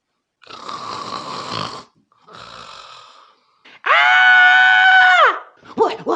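Voice imitating Goldilocks snoring in a recliner: two breathy, rasping inhales followed by a loud, drawn-out nasal snore, then a short sputter, with no speech around it.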